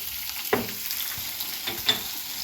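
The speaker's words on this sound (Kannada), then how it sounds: "ಕ್ಯಾರೆಟ್ಗೆ ಒಗ್ಗರಣೆ ಮಾಡ್ತಾ ಇದ್ದಾಳೆ" Soft, steady sizzle of carrots cooking in hot oil, with a couple of light clinks or taps from a utensil against the pan.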